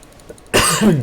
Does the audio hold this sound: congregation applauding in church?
no